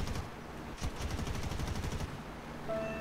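Rapid aircraft machine-gun bursts in War Thunder, a dense rattling stream of shots fired over a steady engine drone, pausing briefly before resuming.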